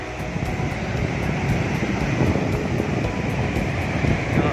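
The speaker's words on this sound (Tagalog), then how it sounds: "Lakas ng alon ngayon." Strong ocean surf pounds a beach in San Narciso, Zambales ahead of an approaching storm, a loud continuous roar of breaking waves mixed with gusty wind buffeting the microphone.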